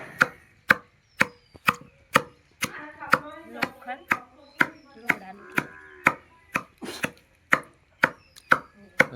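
Millet grains being pounded by hand with an iron pestle in a village kitchen, about twenty sharp, close thuds in an even rhythm, with voices talking between the strikes.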